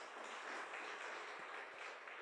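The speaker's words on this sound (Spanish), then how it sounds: "Démosle un fuerte aplauso al Señor, hermano" A church congregation gives steady, faint applause, a dense even wash of clapping from a crowd during the service.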